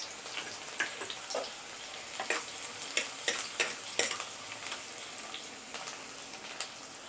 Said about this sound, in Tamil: சின்ன வெங்காயம் ஒரு 20 சின்ன வெங்காயம் கட் பண்ணி வச்சுருக்கேன், அதை போட்டுக்கலாம்.